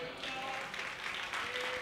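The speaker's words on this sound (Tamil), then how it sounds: "கைத்தட்டி பார்க்கலாம்" Church congregation at a promise service claps along, a soft, muffled patter of hands under a sustained tone and a voice, fairly distant and low in level.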